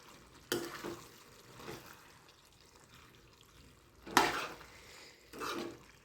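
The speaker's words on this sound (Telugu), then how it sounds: "మసాలా పట్టుకున్నాను కదండి పేస్ట్, అదైతే వేసేస్తున్నాను. వేసేసుకుని మిక్స్ చేసుకోవాలి." Masala paste is stirred into a pan of frying cauliflower and chana dal curry, with a few distinct scraping, clattering spoon strokes against the pan over a low sizzle.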